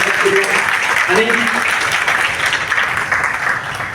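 A crowd claps steadily and loudly at a reunion of the 1989–1990 SSC batch of Holy Cross High School, Nirmal, and a voice speaks over the applause.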